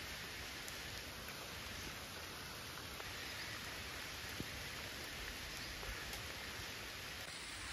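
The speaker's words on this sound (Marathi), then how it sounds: "लय पाऊस चालू आहे आता" Heavy rain falling steadily outdoors near a canal and a cattle shed in the countryside, a dense unbroken hiss with no talk.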